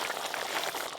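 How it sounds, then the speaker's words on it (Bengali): Curry broth bubbling steadily in a pot, a faint, continuous simmering hiss with soft popping bubbles and no voices over it. "ঝোল তো বেশ ভালো করে ফুটা শুরু হয়ে গেছে"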